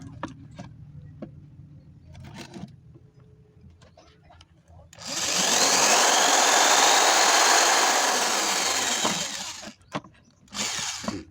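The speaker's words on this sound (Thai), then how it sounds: "ทีนี้ก็มาเจาะอีกข้างหนึ่งครับ" A power drill drills into the other side of a part during a do-it-yourself repair, kicking in loud and sustained after a few seconds of quiet handling noises, then cutting out and briefly whirring once more.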